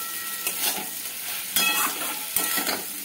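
Spinach with a pinch of turmeric and sugar is stirred in a sizzling pan: a soft steady fry under occasional scraping strokes of a spoon against the metal.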